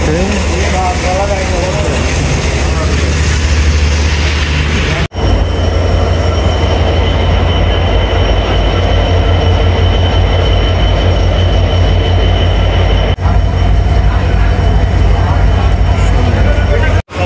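A train at Rajshahi railway station rumbles loudly and steadily at close range for the whole stretch, its heavy low roar broken by brief gaps while wheels squeal and clatter.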